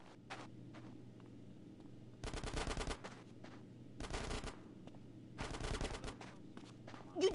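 Machine gun fire in GTA San Andreas comes as three long automatic bursts of rapid, sharp shots, separated by quieter gaps with a few single pops and faint footsteps.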